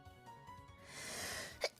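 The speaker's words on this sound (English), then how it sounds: "Wait, I need to sneeze" A single sneeze during a livestream, a rising breathy intake building into a short sharp burst near the end, fairly faint and close to the microphone.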